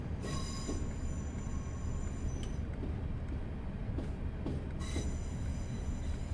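Class 37 diesel locomotive in Train Simulator Classic rumbling along with rail noise, repeated clicks over joints and high squeals of braking wheels coming in bursts, steady and close with no talking.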